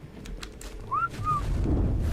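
A character in Ark Survival Ascended gives a short command whistle of two rising-falling notes, clear and close over low ambient game noise.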